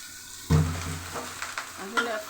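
Potatoes drop into a hot oiled pan and burst into a loud, sudden sizzle that settles into steady close frying, with a couple of stirring scrapes near the end.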